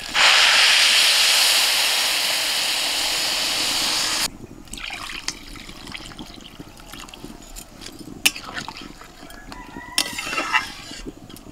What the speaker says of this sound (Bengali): এতে 2 বাটি জল দেবো।